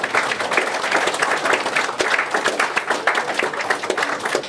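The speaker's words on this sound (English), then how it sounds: "Round of applause." Pub crowd gives a round of applause, dense, continuous clapping from a close group with a few sharper individual claps, steady throughout with no break.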